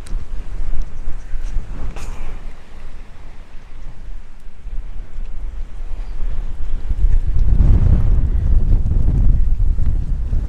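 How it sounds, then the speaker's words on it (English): Strong wind blows outdoors, battering the microphone with a continuous roaring rumble that swells into heavier gusts toward the end. "It's really, really windy today."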